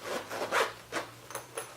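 Zipper being pulled back and forth on a San Diego Customs motorcycle bar bag, several short close rasping strokes in an uneven rhythm, quiet and without talk.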